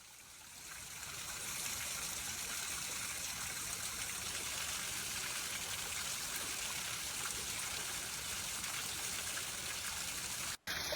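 Steady, dense rush of water pouring down a waterfall, continuous and close, with no voices.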